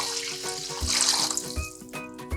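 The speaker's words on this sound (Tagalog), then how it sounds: "Isang litrong tubig ang ibinuhos ko dito." About one litre of water pours and splashes into a pot up close, a short gurgling run broken by a few soft knocks of metal.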